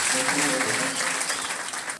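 Church congregation clapping together in praise, a dense steady patter of many hands filling the room, with voices mixed in under the applause throughout.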